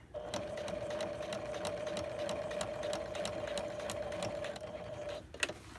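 Sewing machine running a double stitch seam on an Azuki fly, a close continuous motor hum with regular rapid needle ticks for about five seconds before stopping with a final click.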